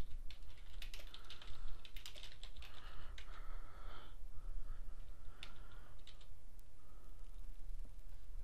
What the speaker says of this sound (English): So I'm gonna type that.